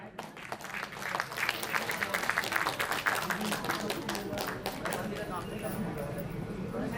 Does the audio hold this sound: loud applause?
yes